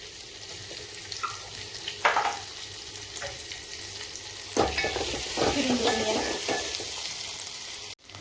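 Garlic and cumin sizzle steadily in a hot pan for brinjal bharta, with a constant close frying hiss and occasional louder stirring scrapes.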